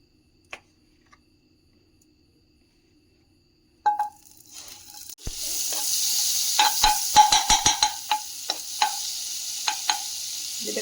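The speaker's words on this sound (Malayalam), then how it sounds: "കുറച്ച് ബട്ടർ എടുത്ത് പാനിലേക്ക് ഇട്ട് കൊടുക്കുക" Butter melting in a pan for garlic mushrooms: near silence with a few soft clicks, then a steady close sizzle starts midway, broken by sharp stirring taps.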